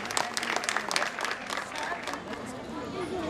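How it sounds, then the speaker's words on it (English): Audience at a 2019 school annual day at Abacus Public School in Lucknow applauding: a burst of dense, moderately distant clapping lasting a few seconds, with crowd chatter mixed in. "A big round of applause."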